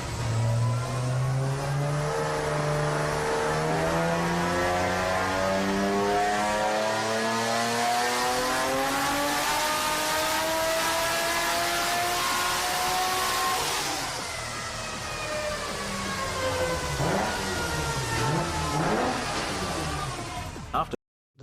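Nissan GT-R engine revving hard on a dyno, loud and sustained with rising and falling harmonic pitch sweeps, easing off partway then climbing again before cutting out abruptly at the end.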